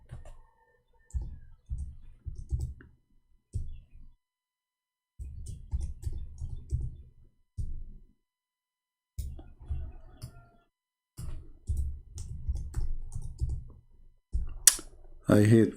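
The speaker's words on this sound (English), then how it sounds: "I hate my keyboard. There's something wrong with it." Bursts of clicky typing on a faulty computer keyboard come in uneven runs with short pauses, fairly close and moderately loud.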